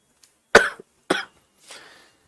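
Three rough coughs in quick succession, close and fairly loud, the last one softer and breathier, with no talking.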